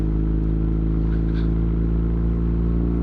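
A BMW R nineT motorcycle engine runs at a steady loud idle close by, a dense low throbbing drone with a faint rattle on top and no change in pace.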